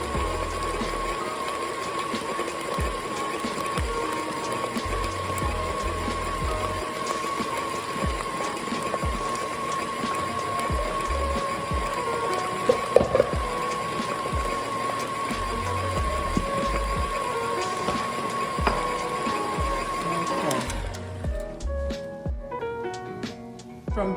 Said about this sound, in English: I'll go ahead and turn my mixer on a slow